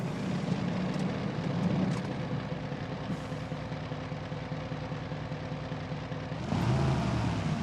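A Kenworth W900A truck engine in Euro Truck Simulator 2 drones steadily with a low rumble, then swells louder near the end as the revs climb.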